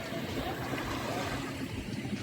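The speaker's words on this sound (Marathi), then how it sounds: "ही बघा बोट." A boat out on the water off a beach in Canada, during a family picnic. A steady, distant rumble blends with wind and surf for a couple of seconds, with no clear voices.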